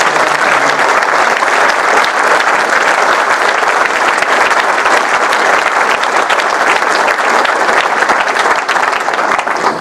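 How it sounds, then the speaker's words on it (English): A large audience gives dense, loud, continuous applause from start to finish, a steady wash of many hands clapping together with no break. "Let's give a big round of applause."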